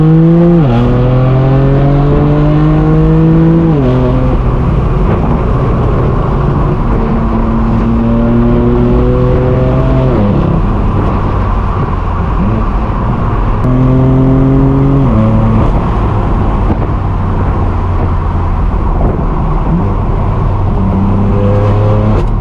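Straight-piped BMW M4 F82 exhaust roaring loud and close from inside the car, rising through repeated gear pulls with sharp shifts between, droning steadily on the road in the middle stretch.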